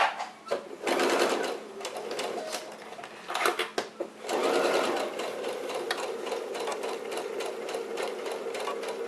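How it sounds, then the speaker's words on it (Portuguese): Sewing machine stitching a milk carton box, running in loud bursts with brief stops between runs, then one long continuous stretch of stitching; no one talks. "Vamos lá na máquina fazer a costura agora da caixinha de leite."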